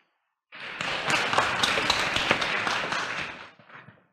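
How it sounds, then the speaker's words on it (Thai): An audience at a tech talk on 5G and IoT business solutions applauds to welcome a guest speaker, a dense burst of clapping that starts abruptly, holds steady for about three seconds, then fades with a few scattered claps. "ในโอกาสนี้ดิฉันขอเสียงปรบมือต้อนรับ"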